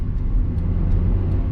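A Honda Civic EK4 hatchback with a B16A2 twin-cam engine hums steadily from inside the cabin, a low continuous drone with slight rises and falls as it drives along.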